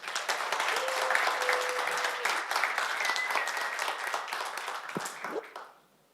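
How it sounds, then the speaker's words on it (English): An audience at a tech conference talk applauds to welcome the next speaker, a loud, sustained round of clapping that holds steady for about five seconds, then quickly fades to quiet. "Round of applause, please."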